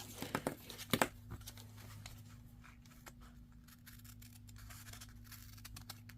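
Scissors cut and snap a washi sticker off its sheet, a quick cluster of crisp snips and tearing near the start, then fainter scratchy paper handling over quiet room tone.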